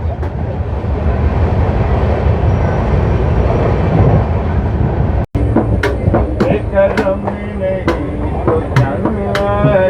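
A train pulling into Ajmer railway station, a loud rumbling roar of the carriages that cuts off and gives way to rhythmic clattering and metallic squeals nearby.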